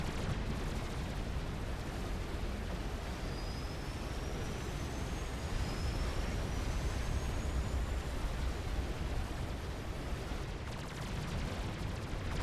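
Gunships firing on a commander unit and factory buildings in the strategy game Supreme Commander: Forged Alliance, a steady, dense roar of gunfire and explosions that runs unbroken at an even, fairly loud level throughout, with no talking.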